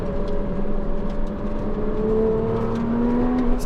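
A 3.4 liter car engine revs under full throttle, pulling steadily upward in pitch with a sustained, loud, close drone and no talk.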